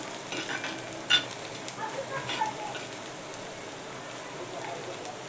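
Onion sautéing in a pan for gathiche pithla, a quiet, even sizzle with an occasional soft clink of the spoon, heard close with nothing else over it.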